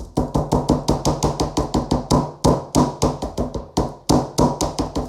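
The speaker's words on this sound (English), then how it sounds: "If I pound another breast out here real quick" A chicken breast is pounded flat with rapid, evenly spaced heavy thuds, about four per second, close and loud with short pauses, and no talking.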